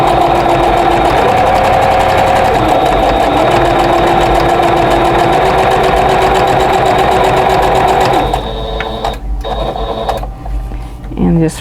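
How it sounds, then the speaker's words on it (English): A sewing machine stitches a quilt block along a drawn line, its motor running loud and steady for about eight seconds before stopping, followed by brief handling sounds. "line up my presser foot along that line, and just go ahead and stitch on both sides of"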